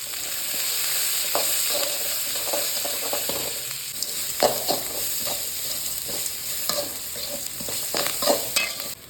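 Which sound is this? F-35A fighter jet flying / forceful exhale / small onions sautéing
small onions sautéing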